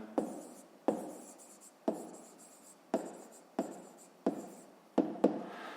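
A math sum for a fifth-grade exercise is written by hand, giving about nine crisp, nearby pen-on-paper scratches in an uneven rhythm, each dying away quickly, with no voices.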